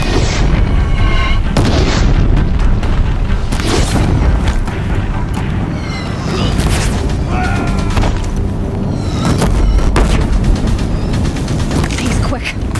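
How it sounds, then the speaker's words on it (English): Deathbringer war machines in Horizon Zero Dawn firing on a bridge, repeated heavy booming blasts at irregular intervals over continuous rumbling combat noise, with a voice speaking in between. "Deathbringers keep firing, this bridge will go!"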